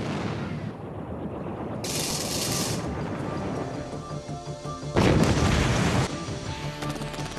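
Skyshield 35mm revolver anti-aircraft guns firing at 1,000 rounds per minute: a sustained, steady roar of rapid cannon fire, with a louder, denser burst near the end, heard alone without talking.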